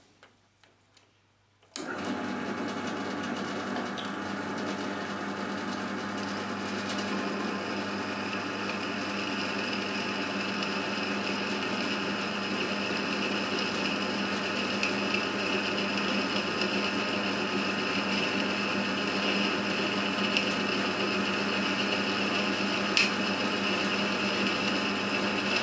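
A drill boring a 3.5mm hole in metal starts after a couple of soft clicks and settles into a steady, close mechanical whine that holds at an even level for over twenty seconds.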